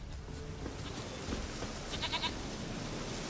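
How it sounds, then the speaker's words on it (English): A goat bleats in The Witcher 3: Wild Hunt video game, a short quavering bleat at a moderate distance over a busy outdoor ambience with faint rustling. "Here, goat."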